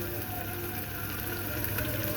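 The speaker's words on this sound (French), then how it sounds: "On va rajouter nos oignons émincés." Sliced onions sizzle steadily in a hot pan for a beef and cabbage choucroute stew, a continuous soft crackling hiss with a low hum beneath, close and even throughout.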